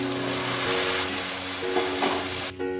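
Boiled chana dal sizzling in a pan with fried ginger, cumin and chilli paste, a steady, close, crackling fry with a few light stirring scrapes, cutting off abruptly at the end.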